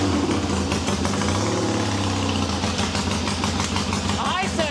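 A restored vintage Triumph engine running steadily at idle, a loud, even mechanical rumble with a rapid rhythmic beat throughout, close by.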